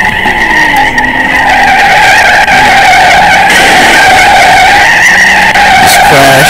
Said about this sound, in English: This car really does sound like a Lamborghini.